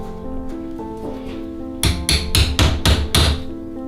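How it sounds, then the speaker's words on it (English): Five sharp metallic hammer strikes ring out in quick succession, driving a carriage bolt into a hole in wooden stilts, following a soft tonal hum at the start. "using a hammer."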